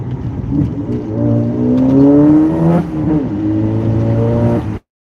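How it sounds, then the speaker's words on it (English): A car fitted with a new, lighter tire setup accelerates hard, the engine note climbing steadily in pitch, then shifting and building again before cutting off abruptly; loud and close, with no talking. "I'm gonna let the car warm up a little bit more, and then we're gonna send it all the way"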